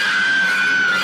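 A single sustained high scream of dread, loud and unbroken for about a second, with no other sound around it.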